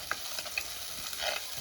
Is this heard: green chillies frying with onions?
yes